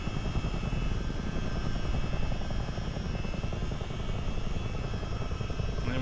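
CH-47D helicopter engine and rotors in a flight simulation game, a continuous steady droning roar with a fast rhythmic rotor throb, constant and unbroken throughout.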